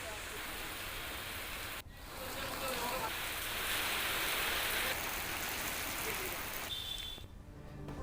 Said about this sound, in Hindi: बारिश के चलते मौसम में भारी गिरावट आई है।